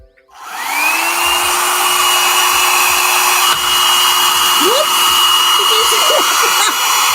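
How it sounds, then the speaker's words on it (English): A hair dryer switches on and blows loudly and steadily right up close, its high whine holding constant throughout. "So what I'm gonna do is use my hair dryer."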